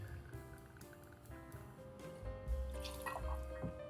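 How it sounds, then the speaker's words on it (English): Rye whiskey poured over ice in a glass: a quiet, steady trickle of liquid with faint clinks of ice. "So I'm going to take 2 ounces of whiskey"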